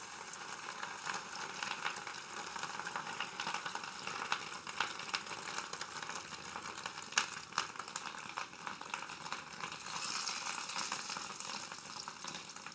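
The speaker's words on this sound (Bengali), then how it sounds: "তাহলে ডিমটা পুরো ভাজা হয়ে যাবে" Fish roe fries in hot oil in a pan, giving a faint, continuous crackling sizzle that stays fairly even, with a few sharper pops along the way.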